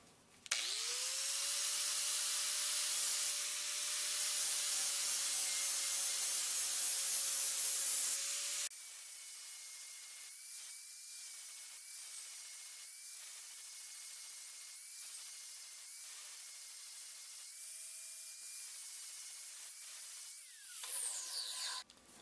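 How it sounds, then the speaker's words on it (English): An old flea-market axe head is ground with a fresh 36 grit flap disc, a loud continuous whining hiss that steps down in pitch partway through as the load shifts, with short gaps near the end. "I just picked up some 36 grit flap discs, so I'm going to give this a try this time"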